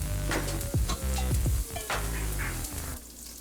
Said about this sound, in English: I'm going to add oil to the pan and some fresh garlic that I minced up. So saute the garlic